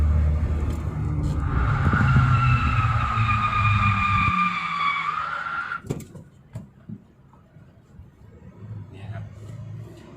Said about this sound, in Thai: วิ่ง 60แล้วก็ ดึงเบรกมือขึ้น แล้วดูการทรงตัวรถว่าจะบิดซ้ายบิดขวาหรือเปล่า